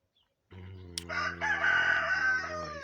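A Poltava clay breed rooster crows loudly and close by in one long, drawn-out call, with little else around it.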